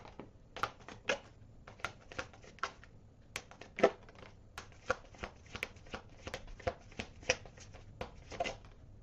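Tarot cards being shuffled and drawn by hand: a steady run of close, crisp riffling and slapping bursts, each a fraction of a second long, repeating throughout with no talk.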